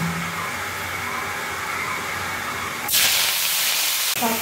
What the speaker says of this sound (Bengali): বড়ি গুঁড়ো করে শাক ভাজা করবো